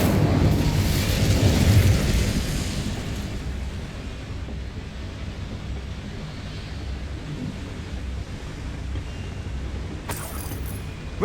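Incendio fire spell cast in Hogwarts Legacy, a loud whooshing blast that roars at the start, then settles into a steady crackling rumble, with a brief sharp burst near the end.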